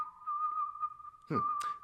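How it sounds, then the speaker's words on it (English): A single person whistles a steady, sustained happy tune with a few wavering notes during a puppet show, fairly close and clear, with no talking. "whistling a happy tune"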